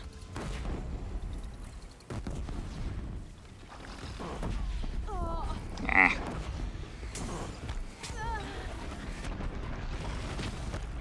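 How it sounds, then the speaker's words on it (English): Sticky bombs go off during combat in the Horizon Zero Dawn video game, giving several heavy booms and blasts amid game sound effects and a machine's cries, with a sharp peak midway. "So let's use my trusty sticky bombs."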